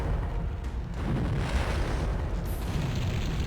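A video game explosion booms up, loud and near, as a dense broadband rumble that fills the whole clip with no gap, strongest in the low end.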